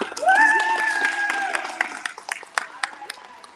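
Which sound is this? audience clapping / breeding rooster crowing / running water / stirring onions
audience clapping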